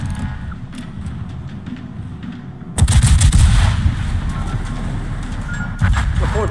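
Naval guns fire a salvo from the Italian cruiser Napoli in World of Warships, a sudden loud booming blast that jumps over ongoing battle rumble, followed by a second burst near the end.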